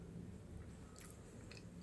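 Close, quiet bites and chewing on a crispy fried curry puff (karipap), with a couple of soft crunches over a low background hum.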